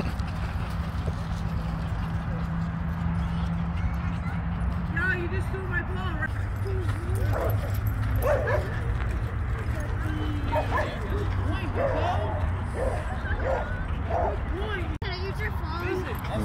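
Several dogs at a busy dog park, including a boxer and a vizsla puppy, let out repeated yips, barks and whimpering whines at close range over a constant outdoor rumble, with people talking throughout.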